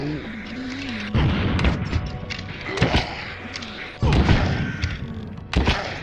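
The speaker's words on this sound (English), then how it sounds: "Oh no, another bomb thrown, dude." Deep booming thuds of bomb explosions in the VR game Shadow Legend VR, three heavy impacts a couple of seconds apart, loud and close, with game sounds and a voice running underneath.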